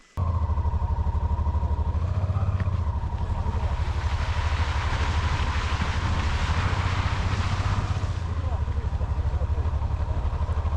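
A Honda XL700 motorcycle rides over a rocky road, its engine throbbing steadily and loudly throughout. Rough broadband rattle swells in the middle of the ride, and a voice may be faintly present.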